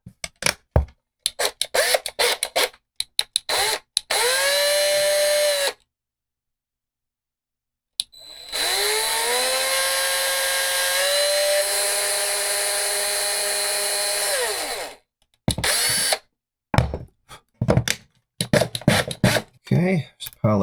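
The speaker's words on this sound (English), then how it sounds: "we're going to have to drill, and I'm going to start with a very small bit" Power drill boring a small pilot hole in a Teenage Mutant Ninja Turtles Triceraton action figure with a very small bit: two sustained whining runs, a short one then a longer one, close and loud, between stretches of speech.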